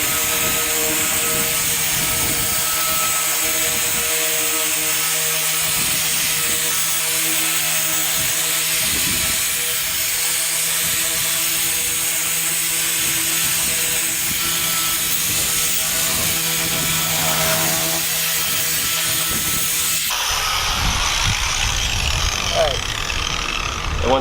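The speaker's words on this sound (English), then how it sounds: "move it all over the hood and start your buffer" A power buffer spreads polishing compound across a car's hood, giving a steady loud whirring drone with a rough grinding texture throughout, stopping abruptly near the end to leave quieter rustling.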